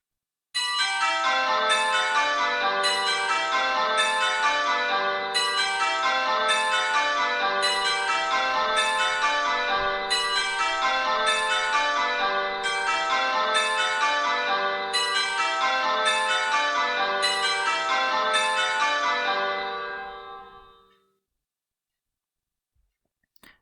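A sequence of bell tones with the first bell of the set missing, about a dozen evenly spaced ringing strikes with bright, overlapping harmonics that sound steadily and then fade into silence.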